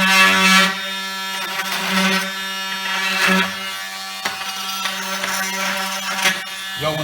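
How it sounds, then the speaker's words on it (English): An oscillating multi-tool plunge-cutting into wood, a loud steady buzzing drone with several bursts of harder cutting, close up and continuous with no talk. "These little oscillators are good for making plunge cuts."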